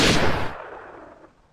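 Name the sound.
sniper rifle headshot in the video game The Last of Us Part 2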